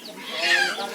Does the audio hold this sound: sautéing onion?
no